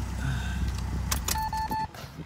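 Close metallic jingle of car keys inside a 1985 Chrysler New Yorker, followed by a few short steady electronic chime tones, brief and clear with no talk.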